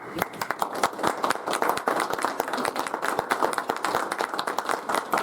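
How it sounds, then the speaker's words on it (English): Audience at a city council meeting applauds a departing council member, a dense, continuous round of many hands clapping at moderate loudness, lasting throughout without letting up. "Please join me in a round of applause to celebrate Darla"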